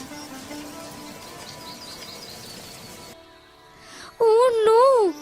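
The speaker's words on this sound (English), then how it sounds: "there was heavy rain in the area" Heavy rain makes a steady, dense hiss for about three seconds, then fades under a bright, chirpy melody that takes over.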